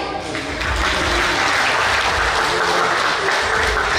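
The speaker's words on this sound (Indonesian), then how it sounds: "Ya, Mbak Melina juga bisa kasih tepuk tangan ya." An audience at an Indonesian motivational talk breaks into loud, sustained applause, dense clapping swelling within the first half second and holding steady until the end, with a faint voice beneath.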